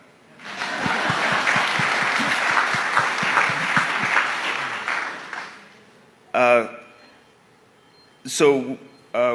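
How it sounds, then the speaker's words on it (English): Applause from a large audience at a church annual conference business session, a dense wash of many hands clapping for about five seconds before fading, followed by brief bursts of speech. "Now you can clap."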